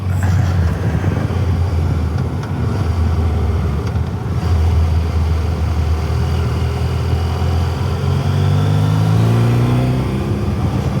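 A car engine runs steadily through a winding valley road with a hairpin, its low drone rising and falling as it revs, loud and continuous with no talking.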